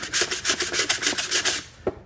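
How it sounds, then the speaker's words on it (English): A hand sander smooths a piece of wood in a quick, regular back-and-forth rasping rhythm, close and loud, with about a dozen strokes before a brief pause and one last scrape. "Using your hand sander."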